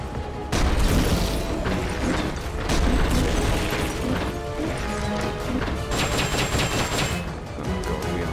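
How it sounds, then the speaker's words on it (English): Machine gun fire in the video game Metal Gear Solid: Peace Walker: a sustained, dense rattle of rapid shots with clanking mechanical impacts, loud and continuous for several seconds. "Now we switch to good friend Mr. Machine Gun"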